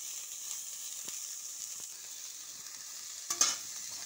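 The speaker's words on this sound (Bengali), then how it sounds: "এই যে কপিটা আমার ভাজা হয়ে গেছে" Cauliflower pieces, pre-boiled with salt and turmeric, fry in oil in a pan, giving a quiet, steady sizzle with a few soft clicks and a brief louder spatter near the end.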